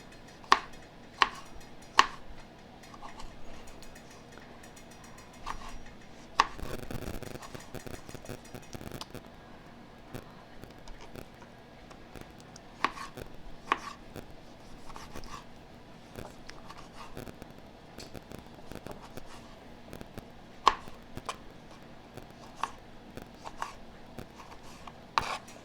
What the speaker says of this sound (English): when you're cutting up your tomatoes